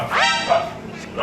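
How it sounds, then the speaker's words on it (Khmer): A single dog bark rings out close by, followed by a bit of background voice and noise. "ឆ្កែ"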